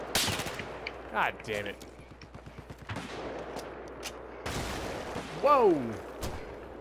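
Gunfire in the video game Battlefield 4, with sharp bursts and heavy impacts early on and again near the end, mixed with explosive crashes while voices shout over the action.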